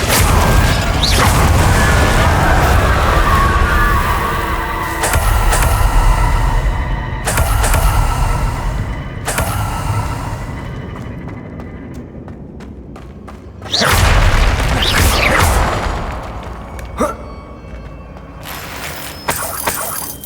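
Repeated Confringo blasting-spell explosions in Hogwarts Legacy on PC, heavy booming thuds and crashing bursts landing one after another over a dense, rumbling game soundscape, with a sharp new blast near the end.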